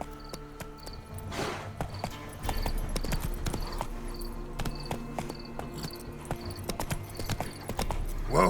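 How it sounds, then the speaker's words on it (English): Horse hooves clip-clop steadily in The Witcher 3 video game, a rhythmic run of close, evenly spaced hoofbeats over a soft outdoor ambience with insect chirps, no talking. "Whoa there, Roach."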